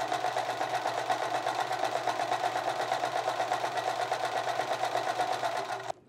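A sewing machine runs steadily while stitching a buttonhole, its rapid even whir close and constant for several seconds before stopping abruptly.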